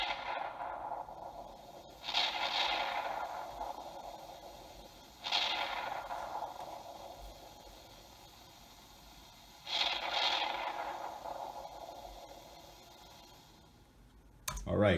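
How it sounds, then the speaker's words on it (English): Rain and thunder effects layered into an early-2000s R&B and hip-hop beat: three swelling thunder-like rumbles with hissy tails roll in at intervals over a steady wash, with no vocals. "it's basically rain and thunder that I added"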